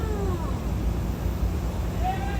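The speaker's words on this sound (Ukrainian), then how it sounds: "Це котик мяу." A cat meows twice, one rising call at the start and another near the end. Both sit over a steady low background hum with no other clear sounds.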